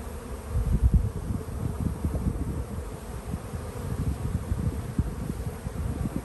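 Honeybees at a hive during a spring inspection, a dense, continuous low buzzing swarm close by, steady and fairly loud throughout with faint rustling and no talk.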